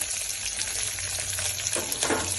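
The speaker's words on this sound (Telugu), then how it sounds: "జీలకర్ర, ఆవాలు, పచ్చిమిర్చి, ఆనియన్ వేగాక" Onion, green chilli, cumin and mustard seeds fry in hot oil for Telangana-style tomato pappu charu, giving a steady close sizzle with crackly bursts and brief stirring scrapes near the end.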